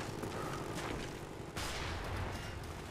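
A flashbang grenade goes off in the Black Ops video game, a sudden bright burst partway through amid ongoing gunfire and muffled game noise.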